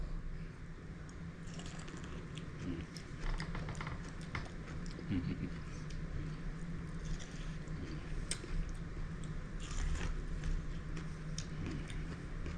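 Someone bites into and chews salted BBQ caramel corn on the cob coated in homemade agave caramel, giving faint, close crunches and sticky, squishy chewing sounds spread unevenly over a steady background.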